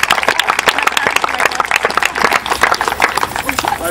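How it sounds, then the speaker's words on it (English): Parents at a high school football event get a round of applause, dense steady clapping from a crowd filling the room, loud and close. "I think we need a round of applause for you parents there."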